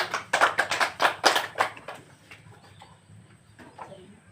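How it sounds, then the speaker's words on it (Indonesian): Classroom applause for a student named Astriani, a burst of quick claps from a small group that is loud for the first two seconds, then fades to scattered faint claps against a quiet room. "tepuk tangan untuk Astriani"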